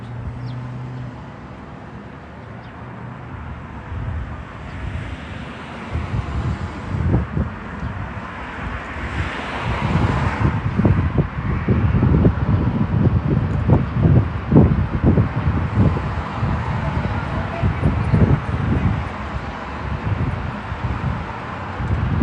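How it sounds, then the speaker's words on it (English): Wind gusts buffet the microphone in strong, irregular bursts, growing louder partway through and rumbling steadily to the end. "It's just windy."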